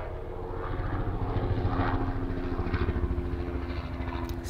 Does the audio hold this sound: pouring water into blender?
no